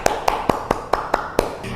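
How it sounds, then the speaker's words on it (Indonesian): Children at a Sunday school session clap their hands in a steady, evenly spaced rhythm, about eight sharp, close claps with no talking over them. "Yuk kita beri tepuk tangan"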